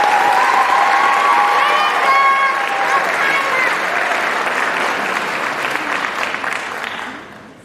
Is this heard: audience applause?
yes